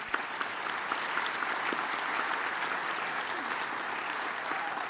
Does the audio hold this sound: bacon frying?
no